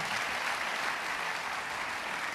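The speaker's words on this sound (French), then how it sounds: "On l'applaudit." An audience claps steadily for Marcel, a longtime runner and cyclist, after an exercise demonstration at a talk on healthy movement; dense, even applause fills the room with no voices over it.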